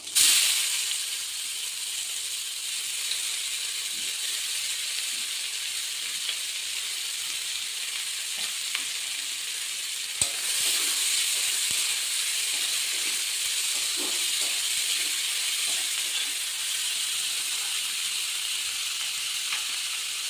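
Whole cumin, bay leaf, dried chillies and onions sizzle in hot oil for a mutton curry, giving a steady, bright frying hiss that holds throughout with small crackles and a brief louder burst midway.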